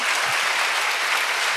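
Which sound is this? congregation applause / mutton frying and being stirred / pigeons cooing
congregation applause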